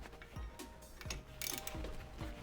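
Quick rapid clicks from a ratchet wrench loosening a 14 mm brake bolt on a 2011-2020 Toyota Sienna, several short bursts of ratcheting close up with metallic ticking in between.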